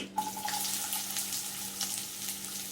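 Onion frying in oil in a pan gives a steady, close sizzle, with a constant hum beneath it and no voices.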